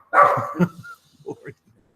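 A pet dog barks a few times up close, short sharp yips and barks clustered in quick succession with a softer whimpering bark afterward, loud in the room with no one talking over it.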